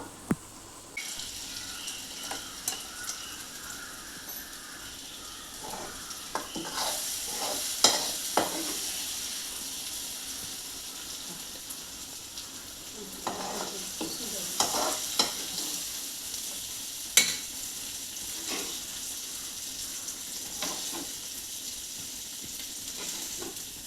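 A spoon stirs fried gravy into cooked mutton keema in a pan, giving soft, faint sizzling with scattered scraping and clinking strokes that come and go over a quiet background.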